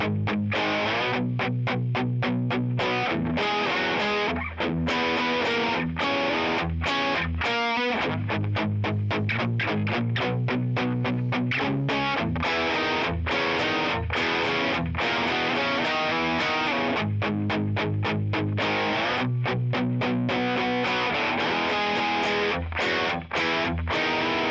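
A distorted electric guitar slowly plays the verse of a song, with thick, fuzzy chords and chugging palm-muted rhythms that hold a steady, loud wall of sound alone and without talk.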